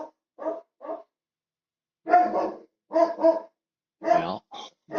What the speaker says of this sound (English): let me go check see what puppy dog's barking at real quick